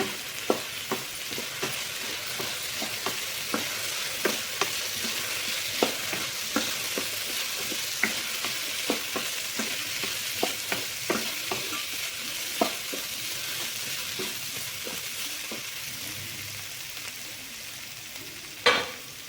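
Potato and carrot pieces coated in masala powder sizzle steadily in a pan while a spoon scrapes and turns them in regular close strokes, with one louder knock near the end.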